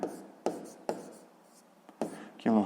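A pen writes by hand in a notebook during a sixth-grade maths exercise, making a few short scratchy strokes separated by quiet pauses, close and soft.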